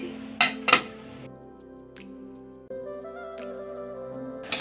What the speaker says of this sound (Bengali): এখন আমি ভাজা আলুগুলো দিয়ে ঢেকে দিচ্ছি।